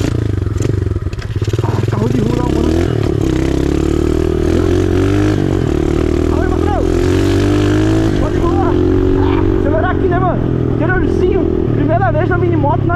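A mini motorcycle engine buzzes and revs continuously on a dirt trail ride, its pitch rising and falling with throttle changes, loud and close, while people talk and shout over it.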